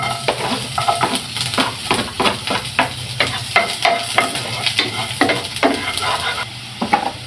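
Garlic sizzles in a little oil in a pan for chicken adobo with potatoes, a steady fry hiss broken by repeated stirring scrapes at a regular rhythm, close and fairly loud, with no voices.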